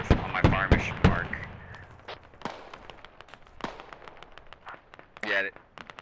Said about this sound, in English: Ooh, it's a firefight